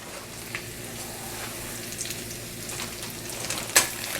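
Chicken pieces sizzle and crackle steadily in a hot frying pan as they brown for coq au vin, with a brief sharp clatter near the end and no talking.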